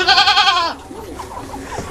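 Goat in a small, simple pen gives one loud, drawn-out bleat up close, followed by quieter, softer bleats or murmurs in the background.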